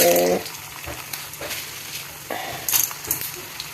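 Urad dal roasting in oil in a pan for a Tamil-style chutney, a soft, steady sizzle with scattered crackles and stirring clicks, under a voice speaking at the start and in brief bursts.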